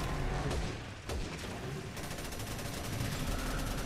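Sniper rifle fire in a video game, heard as dense booming gunfire and explosive blasts that fill the whole stretch loudly, with a brief dip before the barrage resumes.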